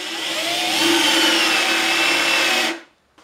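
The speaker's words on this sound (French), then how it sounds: "Je me prends une mèche Forstner du plus gros gabarit possible dans le but de faire des trous. Et on perce ça." A large Forstner bit driven by a power drill bores into wood, a loud steady whining grind lasting under three seconds, then the motor cuts off abruptly into near silence.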